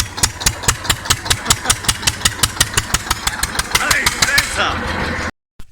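An MTZ tractor engine chugs in rapid, regular thumps, then revs up into a rising roar before cutting off abruptly.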